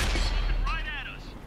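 Tank rounds from a Type 59 in World of Tanks on Xbox strike home in a quick, blurred burst of impacts, with a voice briefly cutting in over the rumble.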